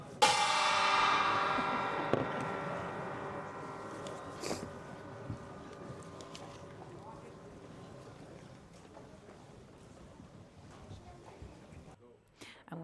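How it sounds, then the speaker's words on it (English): A hefty gong strike opens the chess games at the Tata Steel tournament in Wijk aan Zee, its loud, shimmering ring decaying slowly over many seconds as a commentator talks. "And with that hefty whack of the gong, the games are beginning."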